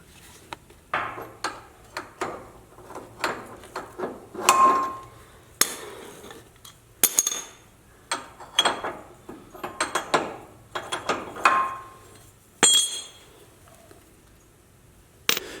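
Metal clicks and ratcheting knocks from a Barnes tool working a pitman arm nut off the power steering box on a Jeep JLU, a series of sharp irregular bursts up close with short pauses between.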